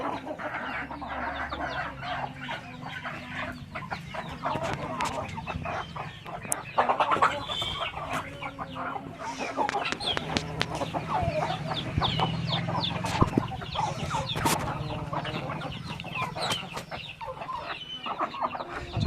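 Medak breed chickens clucking and calling steadily at close range, with occasional sharper squawks rising above a busy farmyard murmur, no talking.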